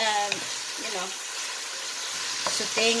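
Beef and onions sauté in a pan for beef asado, a steady close sizzle of frying running throughout with brief stirring clinks and a few short vocal sounds over it.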